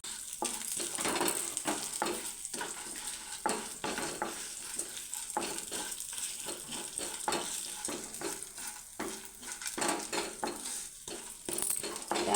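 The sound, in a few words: dry roasting lentils, coriander seeds and garlic in a pan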